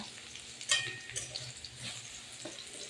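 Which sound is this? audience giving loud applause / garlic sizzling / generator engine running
garlic sizzling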